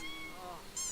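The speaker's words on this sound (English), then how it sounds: "the cat's playing with the toy. It's playing with the squeaky toy." Cat in The Sims 4 video game playing with a squeaky toy, giving a short, faint meow followed by a higher squeal at the end.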